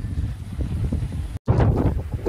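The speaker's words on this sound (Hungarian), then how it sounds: "a bóra kezd feltámadni, mégpedig észak-kelet felől" Bora wind gusting from the northeast through the Paklenica sea canyon on the Croatian coast: a steady, rough roar of wind buffeting the microphone, with a brief dropout midway before the blustery rush resumes just as strongly.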